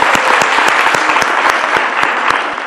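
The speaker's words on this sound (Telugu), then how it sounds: "సో అంత అద్భుతంగా చేసిన మేఘాకి గట్టిగా ఒకసారి క్లాప్స్ అందరూ" A TV game show studio audience claps for contestant Megha, loud, close, brisk applause with distinct individual claps over a steady crowd wash, fading slightly toward the end.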